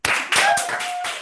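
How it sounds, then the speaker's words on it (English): Applause from an online event audience welcoming a guest presenter at a Pentawards festival talk, two bursts of close clapping running steadily for just over a second. "let's give a huge round of applause to John Glasgow."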